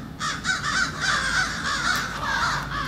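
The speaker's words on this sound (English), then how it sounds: "Crows harassing a hawk." Crows harass a hawk over a backyard, giving loud, harsh caws that repeat in a steady, overlapping chorus close by. No voices join them.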